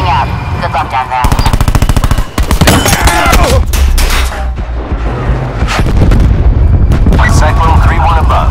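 Aircraft strafing run in Call of Duty Black Ops 4 multiplayer, with rapid loud machine-gun bursts and heavy booming impacts in dense clusters. Radio-style voices are heard among the firing.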